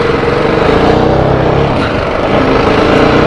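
A TVS Apache RR 310 motorcycle with a loose clutch is ridden on the road, its engine a loud, steady drone with wind rush as it pulls along under acceleration.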